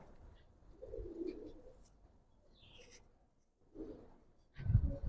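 Kanthi pigeons of the Quran breed cooing in a quiet setting, a few soft low throaty coos in separate bursts with pauses between, ending in a louder close thump or flutter.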